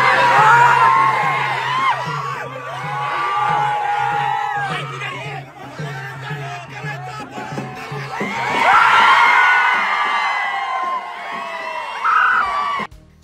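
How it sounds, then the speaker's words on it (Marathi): Rajan Patil's supporters celebrate outside the Angar nagar panchayat office after the election, a loud, dense crowd of whoops, yells and excited chatter that surges and swells throughout, with cheering peaking again near the end. "त्यानंतर राजन पाटील समर्थकांनी नगरपंचायतीसमोर जल्लोष केला."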